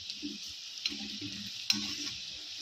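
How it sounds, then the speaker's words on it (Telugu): Boti (tripe) pickle frying in oil as it is stirred, a steady bright sizzle with low scraping stirs and a couple of sharp clicks, close and without talk. "కలుపుతూ ఉండాలి, అడుగు అంటుకుంటుంది లేకపోతే ఆయిల్లో."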